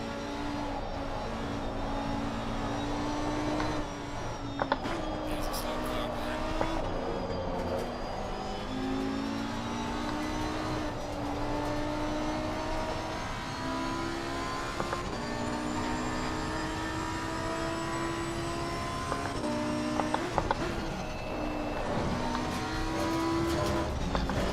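Lamborghini race car engine in Assetto Corsa Competizione at Suzuka, a loud continuous high-revving wail that climbs and drops through repeated gear changes and braking, close and steady with no talk.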